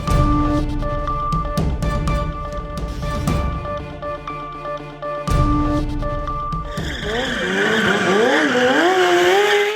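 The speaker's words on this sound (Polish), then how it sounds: "Ryk silnika ma w sobie to coś, co przyciąga uwagę każdego" Car engines roar and tires screech in a loud run of revving and skidding, followed by a long wavering squeal of sliding tires near the end.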